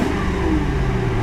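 A 2002 Mercury Grand Marquis GS V8 engine revs loudly and steadily up close, a dense continuous roar with no voices.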